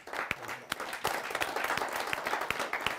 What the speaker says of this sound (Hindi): जोरदार तालियों से स्वागत करते हैं पॉपुलर साहब का